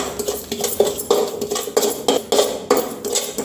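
Poppy seeds roasting in a pan over a low flame while a spatula stirs them, producing steady, rhythmic metallic scrapes and clinks close by, with no one talking.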